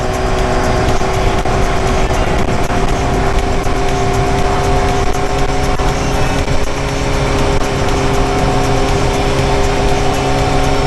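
BMW S1000R motorcycle engine idling steadily up close, a loud continuous mechanical drone with constant tone, no voices over it.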